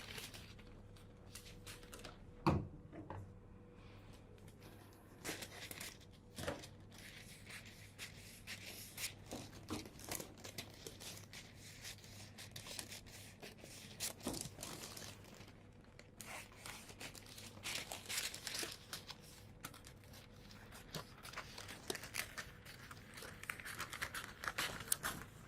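Scissors cutting fabric along a pattern for a tunic shirt, heard as intermittent close snips, crinkles and rustles of cloth and paper in a quiet room.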